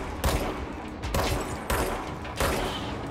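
Rapid bursts of gunfire in the Control video game, three or four sharp volleys spaced about a second apart, loud and close with no talking over them.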